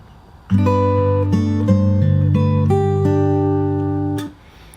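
A fingerstyle acoustic guitar plays the opening bar of a song from Aladdin, clear sustained plucked notes changing every half second or so, close and alone, ringing out at the end.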